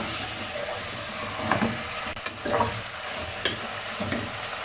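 Whole spices such as cinnamon and black cardamom frying in oil for mutton korma, a continuous loud sizzle broken by a few stirring scrapes.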